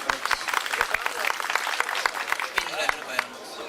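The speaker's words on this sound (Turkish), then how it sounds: "Alkış, alkış." Crowd applause at an outdoor community picnic during a donation drive, a dense patter of claps with sharper individual hand strikes standing out, moderately loud, with voices talking underneath.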